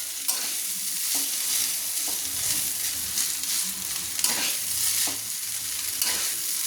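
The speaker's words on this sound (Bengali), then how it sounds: "আবার আমি নেড়ে নিচ্ছি। সবজির সঙ্গে মিক্স করে নিচ্ছি" Chicken chowmein noodles and fried vegetables hiss in a continuous, loud sizzle in a Kolkata-style stir-fry, with soft scraping and tossing sounds from steady stirring throughout.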